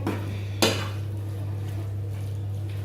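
Ground meat in a spicy sauce stirred in a pan, a single clear clank of a spoon against the pan over a low steady hum and faint bubbling.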